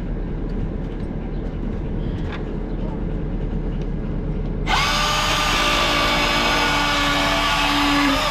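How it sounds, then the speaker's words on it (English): A cordless battery-powered chainsaw starts up midway while corrals are being repaired. A bright, high motor whine jumps in loudly over a constant low background rumble. "I figured this chainsaw is going to be a lot easier. It's another cordless battery powered tool."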